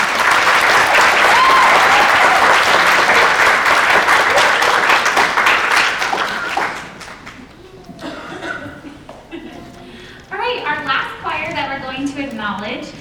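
Audience applause for an a cappella group at a choir recognition event, a dense sustained clapping for several seconds that fades out, followed by a person speaking.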